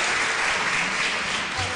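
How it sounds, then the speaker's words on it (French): A crowd at an 11 November 2013 Armistice remembrance ceremony gives a speaker, M. De Bruyne, dense, even applause, heard loud and close throughout a brief burst. "Je vous demande également de l'applaudir."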